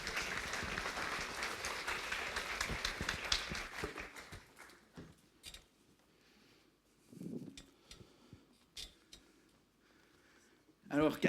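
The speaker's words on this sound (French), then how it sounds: "On peut les applaudir bien fort." A church congregation at an Easter service applauds two guests, a burst of clapping for about four seconds that fades into quieter room noise, footsteps and talk.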